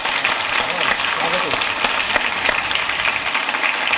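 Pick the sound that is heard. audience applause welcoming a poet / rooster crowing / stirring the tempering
audience applause welcoming a poet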